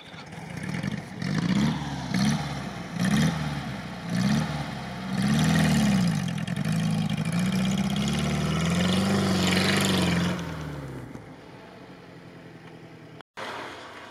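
A ZAZ-968M car engine labors off-road through a swamp, revving up and down in surges before holding a steady strained drone, then dropping to a quieter idle near the end.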